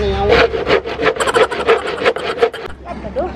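Close hand sawing through bamboo, quick push-and-pull rasping strokes in a steady rhythm.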